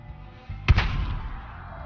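A triple-barrel shotgun fires once in Fallout 4, a single sharp, loud blast with a short rumbling tail over quiet background.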